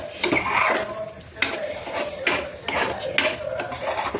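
Spinach and rice being stirred in an iron kadhai, a metal spoon scraping and knocking against the pan in repeated strokes with a faint sizzle beneath, close and steady.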